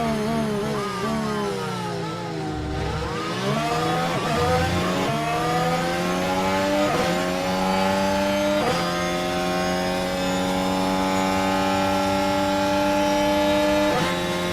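F1 Manager 24 race cars at the Las Vegas circuit: loud, continuous high-revving engine whine with repeated rising pitch sweeps as cars accelerate through gears, several passes overlapping with no talking.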